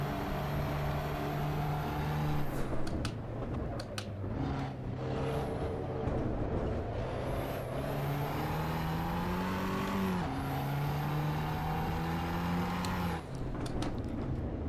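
A race car engine in the Assetto Corsa EVO video game drones loudly and continuously, its pitch rising through the gears and dropping sharply at shifts, with a few brief tire squeals and no talk.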